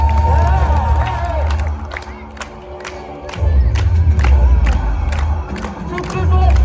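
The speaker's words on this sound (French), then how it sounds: "on les applaudit s'il vous plaît" A crowd at Disneyland Paris cheers and claps loudly after a dance show with Deadpool, whooping voices and shouts mixing with applause, dipping briefly midway before swelling again.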